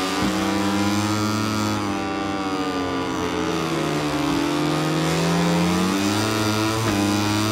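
Moto3 racing motorcycle in a video game, Kazakhstan Grand Prix circuit, revving and accelerating continuously with rising and falling engine pitch, loud and close throughout.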